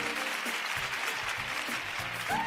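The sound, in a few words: audience applause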